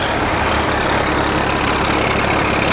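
A Massey Ferguson 241 or New Holland tractor engine running in second gear makes a loud, steady, continuous diesel rumble with no breaks and no voices.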